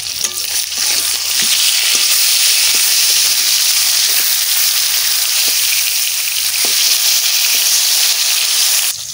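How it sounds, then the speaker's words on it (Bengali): Rohu fish fries in a pan while being stirred, a loud continuous oil sizzle with occasional scraping knocks of the utensil against the pan. "একটু মাছটা একটু নাড়া দিয়ে নিই।"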